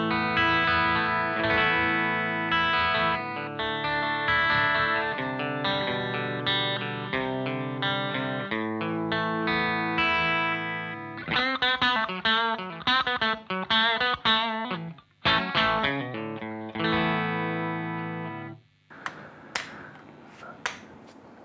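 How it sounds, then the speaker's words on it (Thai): Suhr electric guitar with the bridge pickup split to single coil, a bright, clean, chorus-tinged tone strummed in sustained chords, then choppy muted rhythmic hits and scattered plucks toward the end, close and alone. "สุดท้ายนะครับผมสามารถสปลิตคอยล์ซิงเกิลคอยล์ตัวบริดจ์ได้นะครับ"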